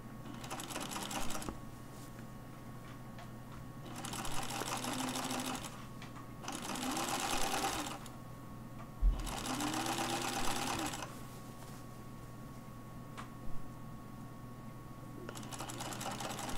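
A sewing machine bastes a seam with long stitches on a torso fitting shell, running in several quick bursts of rapid mechanical whirring, separated by short pauses, close and clear against a low steady hum.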